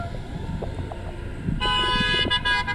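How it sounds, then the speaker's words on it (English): Car horns toot in passing traffic beside a street protest near SeaWorld, a short honk rising over road noise and engine rumble, fairly close and loud for about a second. "Getting a lot of honks here."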